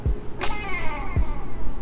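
A cat meows once, close and fairly loud, a short drawn-out call in a quiet room with a couple of soft thumps around it.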